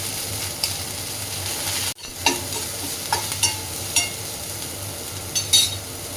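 Dried shewali flowers fry in a pan, a close, steady sizzle punctuated by a string of sharp spatula scrapes and light clinks, with a brief dropout partway through and no speech.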